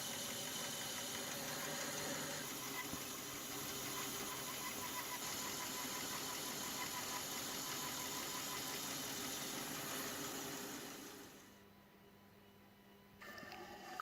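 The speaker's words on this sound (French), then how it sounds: "Une petite coupe à la scie à ruban." A steady motorized whine and hum of a band saw cutting wood for an old butcher block, running continuously, then dropping off near the end as the cut finishes.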